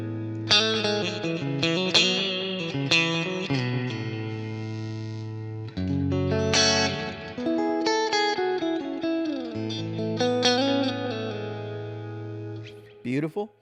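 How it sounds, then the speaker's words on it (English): A Fender Stratocaster electric guitar played clean through a Deluxe Reverb amp profile on a Kemper, ringing chords and picked notes with lush reverb tails, loud and close, pausing briefly midway. "take my my Strat here, and I can have my deluxe reverb down real clean"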